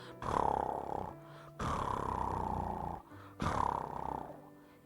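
Lion roar sound effect: three long, deep, rumbling roars in succession, loud and close, separated by short pauses.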